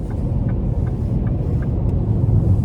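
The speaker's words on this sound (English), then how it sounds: "So Pretty good acceleration. Had it in sport mode." 2026 Ford Explorer accelerating in sport mode on light throttle, a steady low engine and road rumble from inside the cabin, fairly loud and continuous with no talking.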